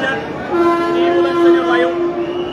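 Vande Bharat train at its Jalna launch, producing a loud sustained horn-like tone over steady rumbling rail noise and crowd murmur, continuous throughout.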